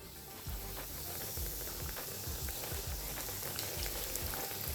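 Chicken wings fry in hot oil, fatter side down, with a steady dense hiss and crackle that holds loud and even for the whole stretch, no talking over it.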